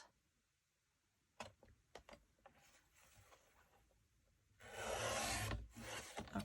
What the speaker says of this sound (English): I, of course, want to cut off this white strip. So let me line it up in my trimmer again.